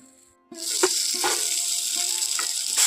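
Fried potato chunks drop into a pan of spice paste that has been fried down for a jackfruit seed curry, setting off a loud, steady sizzle that starts abruptly and holds, with a few clinks of a spatula against the pan.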